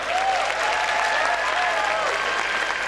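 Dense, steady applause from a large audience at a Thai cultural performance showcase, continuous for about three seconds with faint voices and a tonal sweep running through it.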